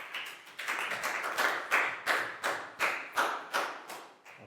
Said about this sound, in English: Big round of applause for Net, guys.